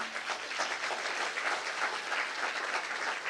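A church congregation applauding, steady mid-level clapping from many hands with a slightly rippling rhythm, filling the space without any voices over it.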